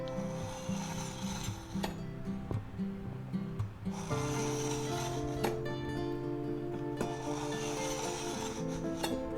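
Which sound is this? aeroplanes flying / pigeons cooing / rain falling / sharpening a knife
sharpening a knife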